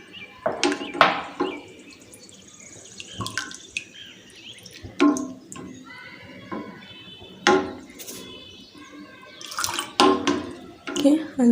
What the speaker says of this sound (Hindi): जितना हो सके इसका हमने पानी निकाल लेना।